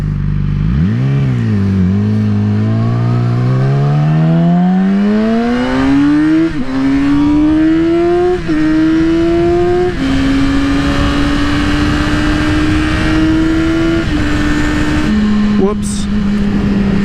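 Yamaha R6 sport motorcycle riding through traffic, its engine whining up through rising revs with gear shifts stepping the pitch, loud and close throughout, with a rider talking over it.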